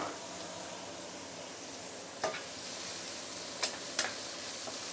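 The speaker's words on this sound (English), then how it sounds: "Let's saute this for a minute or two." Ginger and mushrooms sauté in a pan with a steady, soft sizzle and a few brief scrapes or stirs, no talking.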